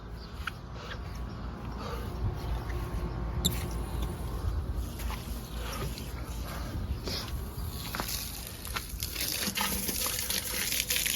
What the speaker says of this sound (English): I'm gonna hit them rinse one more time.